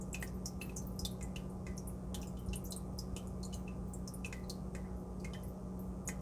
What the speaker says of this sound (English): when the tank is at a lower level, you will hear water trickling down.